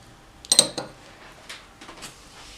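The lid goes onto a clay güveç casserole pot with one close, hard clink and a brief second knock, followed by a few faint scrapes and taps.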